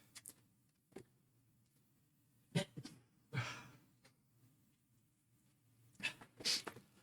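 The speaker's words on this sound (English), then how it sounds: "I'm about to sneeze." A few short sniffs and breaths lead into a sharp sneeze, followed by another quick burst near the end, all close and fairly quiet.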